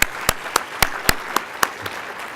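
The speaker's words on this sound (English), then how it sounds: "So please give some applause to our friend Natasha Ehrlich." Applause from a luncheon audience for Natasha Ehrlich, with crisp separate claps standing out over a steady patter from the crowd, fading toward the end.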